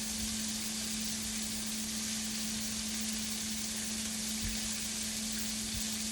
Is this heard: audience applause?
no